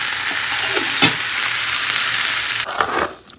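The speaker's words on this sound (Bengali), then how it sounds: "আজ সকালবেলা রান্না করছি ভেন্ডি ভাজা" Okra frying in a pan with a steady, close sizzle throughout, a few louder stirring scrapes, and the sizzle dropping away abruptly near the end.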